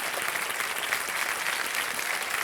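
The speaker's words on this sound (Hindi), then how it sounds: "एक बार जोरदार तालियां बज जाए" A studio audience on a TV quiz show bursts into loud, dense applause that continues evenly for the whole moment.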